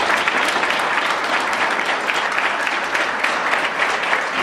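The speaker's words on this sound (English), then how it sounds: "Let's give these candidates another round of applause." Audience applause for candidates at a live debate, a steady dense roomful of clapping that carries on at even loudness throughout with no talking over it.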